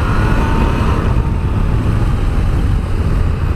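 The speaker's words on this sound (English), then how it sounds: "I'm a fan of triple engines, of course, coming from my street triple. And this thing sounds exactly the same." A 2017 Yamaha Tracer 900 triple-cylinder motorcycle engine drones steadily and loudly while riding, mixed with heavy wind rush across the whole stretch.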